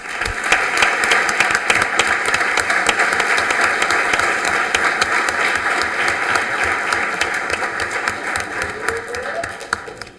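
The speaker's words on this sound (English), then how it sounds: "if you could join me in another round of applause for all of our honorees" Sustained audience applause for honorees at a city commission meeting, dense steady clapping from a large crowd across the whole stretch, tapering slightly near the end, with no talk over it.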